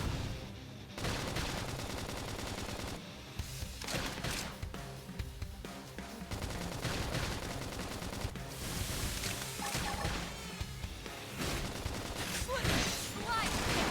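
Rapid gunfire and combat effects in the video game Xenoblade Chronicles X, a dense, loud barrage with bursts and explosions over layered game audio and occasional voices.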